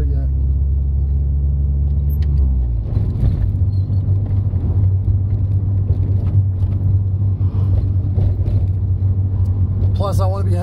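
A car engine idles steadily while warming up, its coolant hot but oil still cold, a deep continuous rumble after a brief shift in pitch near the start, holding an even, close drone throughout with a slight rise at the end.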